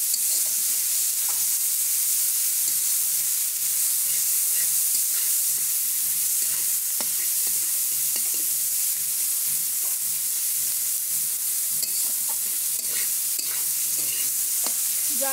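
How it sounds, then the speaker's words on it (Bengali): Onions fry for chicken masala in a loud, constant close-up sizzle and hiss, with the occasional scrape of a spatula stirring them and no speech. "তো পেঁয়াজটা হালকা ভেজেছি, এই যে হবে পেঁয়াজটা।"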